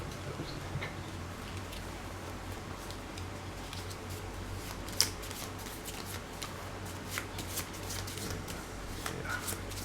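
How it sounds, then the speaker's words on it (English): A deck of cards is shuffled for the board game Cthulhu: Death May Die, a soft continuous riffling and rustling with faint taps, steady and close, under a low room hum. "before I do, however, I have to reshuffle."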